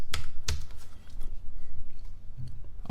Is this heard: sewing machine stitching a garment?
no